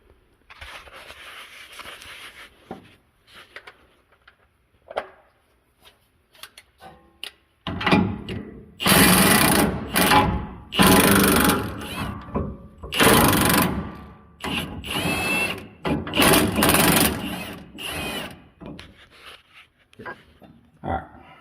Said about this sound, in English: I'm using a 13/16 to take these factory ones off.